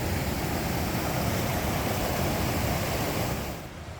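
A steady broadband rush of creek water flows along the Pacific Crest Trail in the high Sierra during a heavy snow year, dense and close, easing off slightly near the end.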